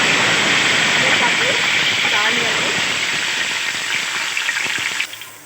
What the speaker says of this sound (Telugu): ఇప్పుడు దాంట్లో కొంచెం ఆవాలు, జీలకర్ర రెండు వేసేసాము.